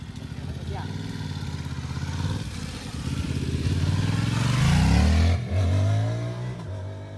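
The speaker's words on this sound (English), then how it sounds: "When I drop my hand, he needs to accelerate the motorcycle." A motorcycle engine revs up hard on a race track at New Jersey Motorsports Park during a riding school drill, its rising drone swelling to a loud peak near the end before easing off.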